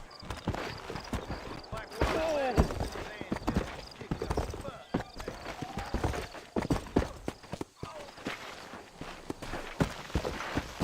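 Horse hooves in the western game Red Dead Redemption, a brisk uneven clip-clop of hoofbeats moving along, close and loud, with voices speaking over parts of it.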